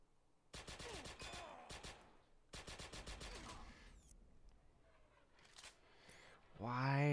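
Gunfire in a sniper video game comes in two rapid automatic bursts, crisp and close, followed by scattered quieter game effects and a rising tone at the end.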